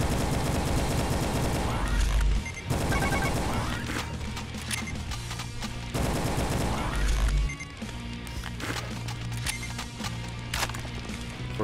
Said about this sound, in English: I'm shooting a wall.